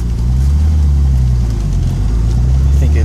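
A 1970 Datsun 240Z with a turbocharged L28ET inline-six during a third-gear pull, a loud, steady low engine drone close to the microphone with a strong droning hum and little change in pitch over a few seconds.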